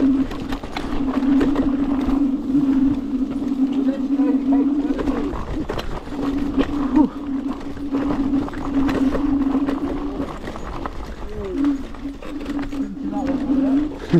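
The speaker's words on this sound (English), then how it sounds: "Sounds really loud in single motor mode, this, don't it?" An off-road vehicle motor in single motor mode whines loudly and steadily as a sustained electric tone, running under near-constant talk, with brief drops and shifts in pitch.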